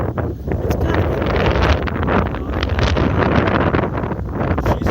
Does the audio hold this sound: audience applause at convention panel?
no